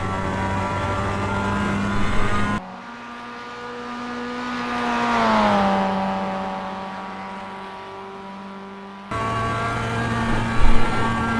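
A Mazda MX-5 race car at Bathurst in iRacing drones at steady high revs, cutting to a quieter onboard view where the engine note swells and sags, then returns loud and constant.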